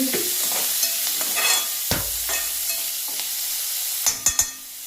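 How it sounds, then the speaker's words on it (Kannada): Tomatoes fry in a thick aluminium kadai, a soft sizzling hiss close by with occasional stirring scrapes and a few sharp metallic knocks of a utensil against the pan near the end. "ಅದು ಫ್ರೈ ಆಗಿ ಒಂದು ಸ್ವಲ್ಪ ಸಾಫ್ಟ್ ಆಗಲು"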